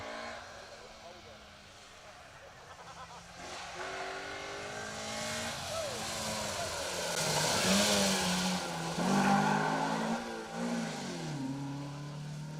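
A Suzuki Swift rally car, number 101, races along an asphalt stage at Rally Ceredigion, its engine revving and shifting as it approaches and passes, with spectators talking nearby throughout.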